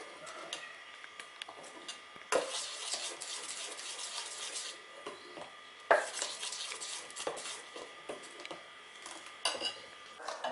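A spoon stirs moong dal dosa batter mixed with white sesame seeds in a kitchen bowl. It makes soft, faint scraping with a few sharper clinks against the dish, and there is no talking.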